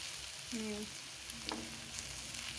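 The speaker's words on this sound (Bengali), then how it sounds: "এই দেখো এটা রান্না করছি, এটা আমার বাবার জন্য রান্না হচ্ছে। লাউ ডাঁটা আর কাঁচকলা দিয়ে" Bottle gourd stems and green banana fry quietly in a pan, a soft steady sizzle with a few faint clinks and stirring sounds, no voices.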